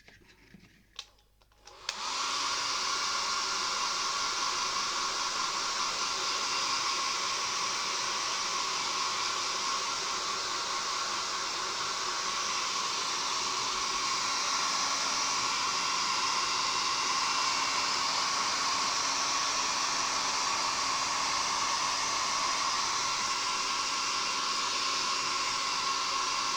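After a brief click, a hair dryer switches on and roars steadily at close range while drying paint on a 1/72 Revell Sherman M4A1 model tank, an unbroken high whooshing hum with no voices.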